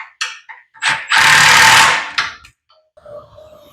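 Power tool driving down bolts on a Manco Dingo kart with a Predator engine, heard as a few short, loud buzzing bursts and then one longer sustained whirr, close by, ending in quiet clicks and handling noise.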